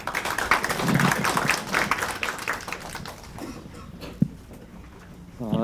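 An audience at a university symposium applauds a professor introduced as the next presenter; the clapping is moderately loud at first, thins and fades over a few seconds into near quiet, broken by a single tap before a voice begins.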